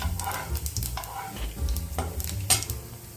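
Fenugreek seeds dry-roasting in a pan for a vendhaya kuzhambu, stirred with a steady run of scraping, rattling strokes over a soft sizzle, close by and with no voices.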